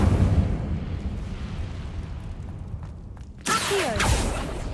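A fire spell cast in Hogwarts Legacy bursts out as a sudden loud whoosh and crackle near the end, following a steady low rumbling roar.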